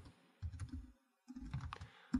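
Quiet tapping on a computer keyboard in two short bursts separated by a pause, heard close up.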